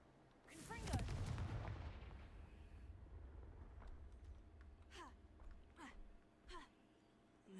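A Confringo blasting spell goes off early as a single booming explosion in Hogwarts Legacy, then rumbles away into scattered faint crackles and small pops.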